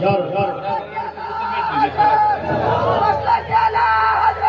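A crowd at a naat recitation gathering shouts a slogan back in unison, loud overlapping voices and yells rising around a lead voice in a dense hubbub.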